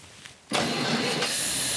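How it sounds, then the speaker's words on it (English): A Packard engine is cranked by its starter motor and catches at once, roaring up into a loud, steady run close by, with no one speaking. "All right, reach across, hit the starter motor."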